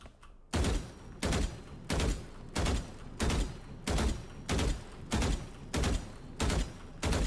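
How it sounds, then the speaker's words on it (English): Video game gunfire during strafing practice: eleven loud, sharp shots in evenly spaced pairs, each pair a quick double crack that repeats steadily, with no voices. "first I just do this 2-shot burst practice with strafes"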